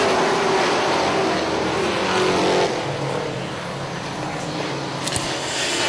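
Race trucks at Charlotte roar at full throttle after the green flag, a dense, loud wall of engine noise throughout with no voices.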